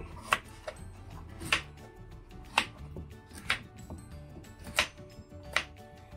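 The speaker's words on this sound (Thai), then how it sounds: "กำลังเตรียมฟักทองในการหั่น" A knife chops through firm pumpkin on a cutting board, about eight sharp, evenly spaced strokes, close and clear with no talking.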